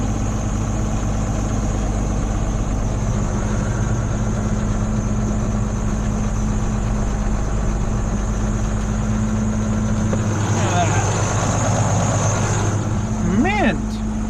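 A tractor fitted with bale forks idles steadily nearby with a low, even engine drone, with a brief metallic squeal and some clatter near the end.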